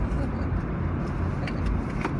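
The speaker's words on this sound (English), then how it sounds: "I'm on a car." Steady low road rumble from inside a moving car, continuous and fairly loud with no clear talk over it.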